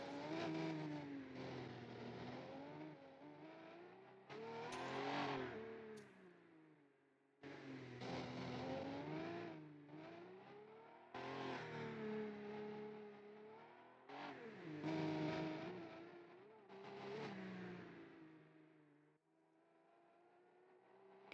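A Fife Racing car's engine in a BeamNG AI race on Italian street circuits, revving and climbing through gears in repeated surges with lifts between, steady and close, no voices.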